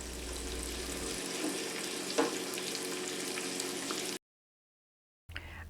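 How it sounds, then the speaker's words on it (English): Soft, steady sizzling of four pieces of bacon frying in a pan, crackling at a low level for several seconds before cutting out. "I'm frying 4 pieces of bacon for my baked beans"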